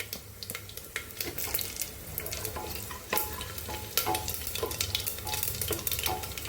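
Garlic cloves and asafoetida sizzling in hot oil for a colocasia leaf curry, a steady crackling fry with scattered sharp spits and pops, close and fairly loud, with no voices.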